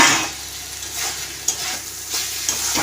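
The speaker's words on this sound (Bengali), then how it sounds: "আরও একবার নাড়াচাড়া করে দিচ্ছি আবারও ঢাকা চাপা দিয়ে চিকেনটাকে কষিয়ে নিচ্ছি" Chicken being stirred in a pan while it fries, a steady sizzle under repeated scraping strokes with no voices.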